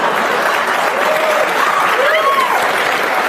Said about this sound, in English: They applaud when you smoke.